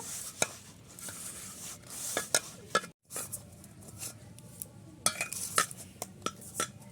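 Spinach-leaf dough being kneaded and mixed by hand, with irregular soft slaps, squelches and clicks against a bowl, moderately close, with a brief silent gap midway and no talk.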